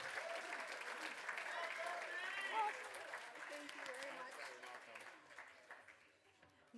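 Enthusiastic applause from an audience at a fundraising gala as a speaker comes up to the stage, strong at first and gradually tapering off toward the end, with faint voices mixed in.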